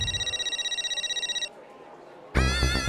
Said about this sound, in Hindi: माधवी का फोन, ये क्यों फोन कर रही है?